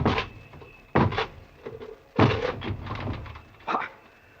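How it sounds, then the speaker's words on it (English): Door being broken down as a radio drama sound effect, several heavy separate thuds and bangs against wood at irregular intervals, fairly close, with quieter knocking between the main impacts. "break this door down."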